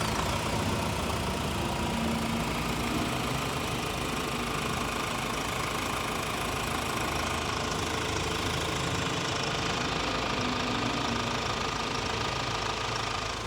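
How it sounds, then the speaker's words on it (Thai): The 2.0-litre bi-turbo diesel engine of a 2023 Ford Ranger Stormtrak pickup idles steadily with a rough, knocking rumble, constant and close for the whole stretch, with no talking. "ฟังเสียงเครื่องกันหน่อย"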